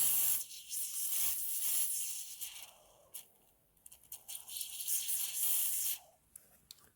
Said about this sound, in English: I have normal hairspray, like this. It's normal hairspray, and I spray it on the image.